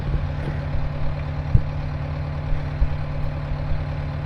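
A farm tractor engine idles or runs steadily with a deep, constant low rumble, close and continuous, with a few faint knocks on top.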